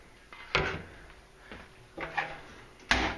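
The door of a Big E pellet stove closes, heard as a few separate metallic knocks and clicks, one near clunk, then a final sharper latch.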